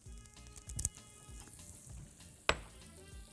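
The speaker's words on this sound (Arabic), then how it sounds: "والثوم ده هقليه بس ثواني فيها كده" Garlic fries in butter in a pan, giving a soft, continuous sizzle with a few sharp clinks and scrapes of stirring utensils against the pan.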